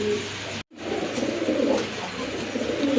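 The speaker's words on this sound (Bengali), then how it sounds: "এক জোড়া লাহোরি কবুতর, হিউজ সাইজের কবুতর" A pair of large silver Lahori pigeons coo close by in soft, throaty, repeated calls, with a brief silent gap near the start.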